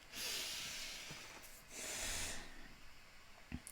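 A person draws a long, deep breath in, then lets out a second long, airy breath, close and alone in a quiet room. A short sniff follows at the end.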